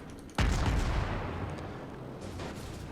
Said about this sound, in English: We're going to be taking fire from the Coalberg and that Weymouth.